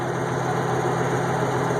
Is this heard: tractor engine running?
yes